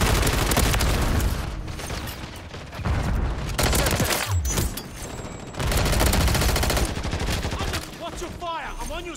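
Rapid bursts of automatic gunfire and explosions in a first-person shooter video game, dense and loud throughout with brief lulls, mixed with game effects and occasional radio chatter.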